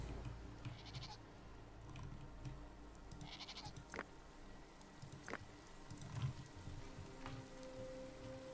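Goats bleating in the prehistoric survival video game Dawn of Man, several faint, short bleats scattered over a quiet background with a soft patter like rain, and no talk.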